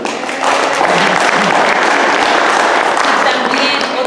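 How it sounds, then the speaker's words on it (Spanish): A crowd at a community gathering of the Safe Agriculture Safe Schools group in California breaks into steady, dense clapping that swells quickly and holds at full strength for about four seconds. "Un aplauso."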